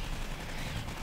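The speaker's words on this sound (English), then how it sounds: "The turrets are taking care of most of them" Automated turrets in Aliens: Colonial Marines fire at aliens in a rapid, continuous burst of gunfire, dense and fairly loud for about a second with no pause.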